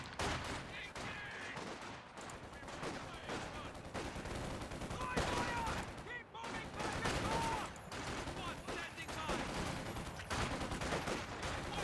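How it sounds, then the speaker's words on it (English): Dense battlefield gunfire crackles through the World War II strategy video game Company of Heroes 2, with overlapping rifle and machine-gun bursts in a constant fusillade, moderately loud and steady throughout. "Lots of fire from everybody right now."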